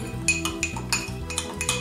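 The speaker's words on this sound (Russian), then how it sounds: "Теперь перемешаем." A spoon stirs a baking soda mixture in a glass or bowl during a children's kitchen experiment with liquids, giving repeated close, bright clinks and scrapes in a steady rhythm over a constant low background hum.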